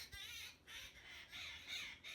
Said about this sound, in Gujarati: ભાઈ ચકલા બોલે છે